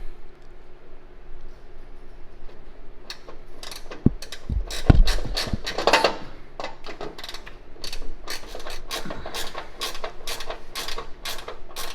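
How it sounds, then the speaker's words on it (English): A ratchet driving bolts into a drop bracket on a Subaru Sambar KS4 body lift, with a steady run of close, rapid clicking strokes that grows busier and continues to the end after a couple of louder knocks. "run a couple bolts in"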